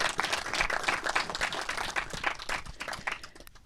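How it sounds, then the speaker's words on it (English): Audience at a screenwriting industry session at the Garden Cinema bursts into steady, dense clapping that fills the room, then thins and tails off toward the end. "Big round of applause"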